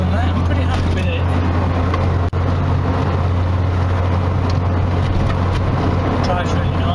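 A Nissan car drives on a hot day, with a steady loud low engine and road drone from inside the cabin and one brief dropout. The drone holds constant throughout with no talk.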